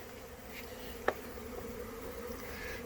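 Many robber bees buzzing continuously close by at a hive, a steady insect drone with a brief sharp tap partway through.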